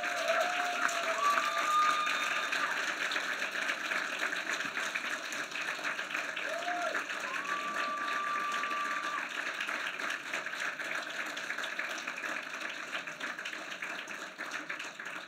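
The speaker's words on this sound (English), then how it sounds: "would the graduates please turn to your family and friends and give them a round of applause" Graduates at the KGI 2013 commencement ceremony applaud their families and friends, a steady, moderately distant wash of clapping that holds evenly throughout, with faint tonal whistles or feedback drifting above it.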